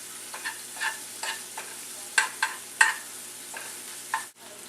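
Green onions being stirred in a pan with salt and pepper, giving a series of distinct scraping strokes at an uneven rhythm over a soft, steady sizzle, close and without talk.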